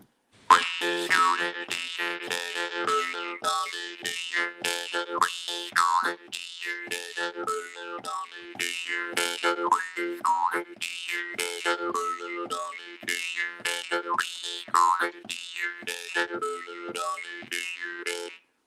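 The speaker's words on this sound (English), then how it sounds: "a really good little ditty that I learned from a while ago from this old man who was playing the jaw harp" A twangy jaw harp plays a bouncy, rhythmic tune with wobbling, vowel-like tones, close and steady for the whole stretch, without talking.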